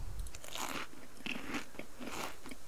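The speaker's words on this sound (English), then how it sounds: "let's go up and eat this kelp. It's gonna be munching down on it." Character in the survival game Subsistence munching kelp, a few close, crisp crunching bites and chewing sounds in quick succession, alone without talk.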